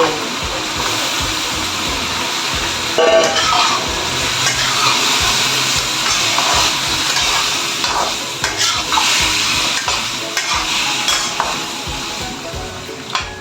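Carrots and potato being stirred in a pot of beef soup, a continuous bubbling, sizzling wash with scraping stir sounds and occasional clanks.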